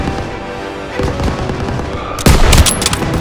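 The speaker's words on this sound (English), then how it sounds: "Daniels, hit that MG!" Machine gun fire in Call of Duty: WWII during a street battle, heard as rapid bursts of loud automatic shots, with a heavier, louder volley near the end over a dense background of game combat noise.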